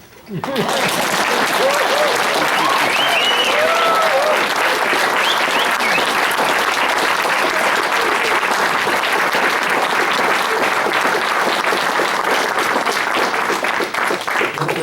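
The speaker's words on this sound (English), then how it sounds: "You can applaud now." Loud, sustained audience applause at a speech contest, a dense wash of clapping that holds steady for nearly fifteen seconds with a few cheers mixed in.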